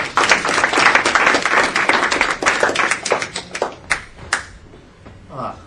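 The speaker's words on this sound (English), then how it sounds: "give him a round of applause" An audience at a panel discussion applauds with dense, loud clapping that gradually thins into scattered individual claps before fading out.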